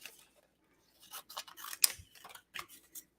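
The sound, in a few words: scissors cutting out a paper hat for a card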